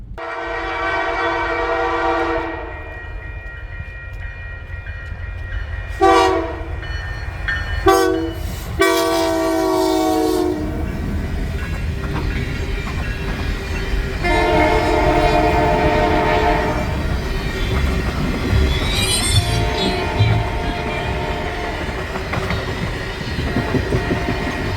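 The CPKC Holiday Train passes near Stillman Valley, Illinois, its loud multi-tone horn blasting in long and short calls over the steady rumble and clatter of rail cars, close by.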